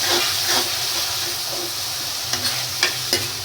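Chopped medium-size tomatoes frying with masala in hot oil, a steady close sizzle and hiss with soft stirring scrapes and a few sharp spoon taps near the end; no talking.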